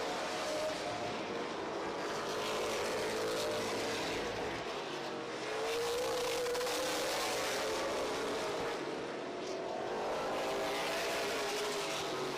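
Race cars in a feature race roar past on a track, loud engine noise swelling and fading as the cars pass close by in succession.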